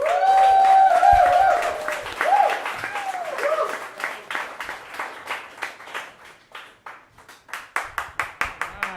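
An audience claps and applauds to welcome a comedian on stage, loud at first over some voices and cheers, then thinning into scattered, rhythmic claps that fade and pick up again.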